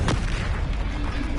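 A Confringo fire spell in the Hogwarts Legacy video game bursts into a loud, booming explosion with a sharp onset and a rumbling low-end tail that fills the short moment.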